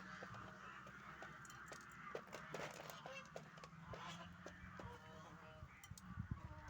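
Geese honking repeatedly at moderate distance, mixed with chicken calls from a village poultry house and some background voices.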